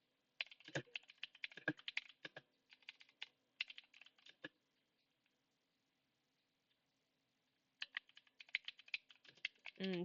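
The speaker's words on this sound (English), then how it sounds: "Typing sounds intensifies." Bursts of rapid typing on a computer keyboard, close and crisp, pausing briefly in the middle before resuming with quick, uneven keystrokes.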